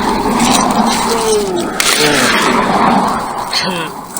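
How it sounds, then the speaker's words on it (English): Steady road traffic roars close by, with passing vehicles and a brief tire squeal; a voice speaks faintly beneath the noise. "the sound of the traffic obviously could be drowning me out"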